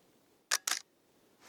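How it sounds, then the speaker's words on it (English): Nikon D800E DSLR shutter fired through the optical viewfinder, not live view: two sharp, close mechanical clicks in quick succession, mirror slap then return, over quiet room tone. "So I'm just going to press the shutter."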